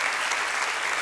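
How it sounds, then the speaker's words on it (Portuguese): Church congregation applauding during a Portuguese-language baptism sermon, a dense, steady wash of many hands clapping at close range with no break across the short stretch. "Vamos aplaudir ao Rei dos Reis."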